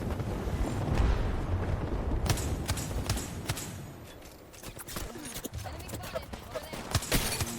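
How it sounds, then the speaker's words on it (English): Wingman pistol shots in Apex Legends ring out as sharp, separate bangs in a tense final-circle fight, scattered among rumbling effects and background gunfire, with a commentator talking throughout. "nice wingman shot from Bosa coming out. Lovely shots."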